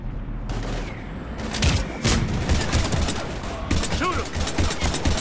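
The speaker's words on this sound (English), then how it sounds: "We're taking heavy fire." Heavy gunfire in the sci-fi shooter Mass Effect 3 during a battle on Earth: rapid, dense bursts of shots crackle close and loud throughout, with a sharp break and a further volley near the end.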